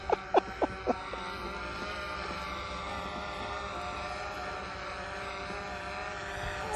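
A DJI Phantom 3 quadcopter drone hovers close by with a steady, continuous propeller whine and buzz, preceded by a few sharp clicks at the start.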